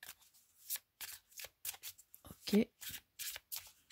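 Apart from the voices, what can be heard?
shuffling karmic numerology cards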